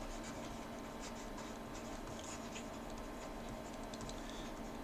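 A pen scratches continuously while writing out the Sharpe ratio formula: close, steady scribbling with small ticking strokes over a constant hiss of background noise.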